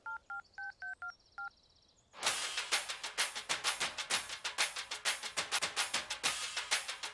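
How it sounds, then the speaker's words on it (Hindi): A phone number is dialed with about six short touch-tone beeps, followed by a loud, steady, rapid pulsing that carries on to the end; no talking. "देखो देखो, मेरी गर्लफ्रेंड का फोन रिंग हो रहा है।"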